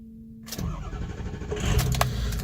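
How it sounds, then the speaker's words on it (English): A cold 2003 Ford F350 FX4 Lariat Powerstroke diesel pickup cranks briefly and fires, settling straight into a loud, rough, clattering idle close by. "Truck fires right up."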